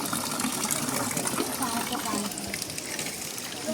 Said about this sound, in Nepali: खोलाको पानी रहेछ